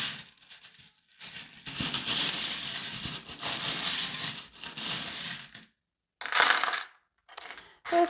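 Small metal divination charms are shaken and tossed onto a surface, giving bursts of close jingling, clinking rattle with brief pauses between throws and no talk.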